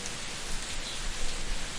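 Heavy cartoon rainfall, a steady dense hiss of pouring rain that stays constant throughout the short stretch, with no voices.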